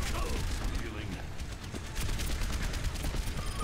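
Rapid automatic gunfire in Overwatch, a dense stream of close shots rattling continuously over rumbling game noise, with a voice talking over part of it.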